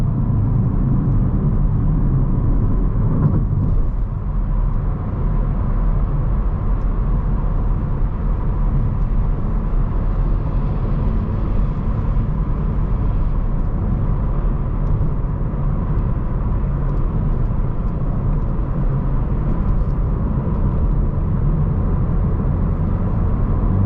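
Interior view from a BMW M3 on the road before its mid-pipe and downpipe exhaust upgrade, a steady low engine and exhaust drone with road rumble holding constant and close throughout, no one speaking.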